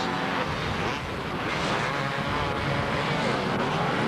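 Quad bikes, including a 350 Yamaha and 125 machines, race along Southport beach, their engines a loud, continuous buzzing roar passing close by.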